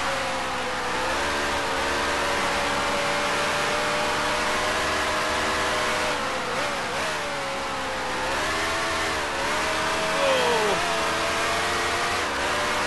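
Racing car engine in the Grand Prix Legends video game: a loud, sustained engine drone whose pitch dips and climbs as the throttle is lifted and reapplied, with no talk over it.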